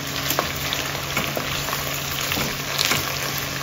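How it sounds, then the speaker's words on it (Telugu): Broad beans sizzle steadily in hot oil in a home kitchen pot, a continuous crackling fry with occasional soft stirring clicks, close and moderately loud with no talking. "ఎందుకంటే మళ్ళీ ఇప్పుడు మనం చిక్కుడుకాయలు వేసి వేపాలి."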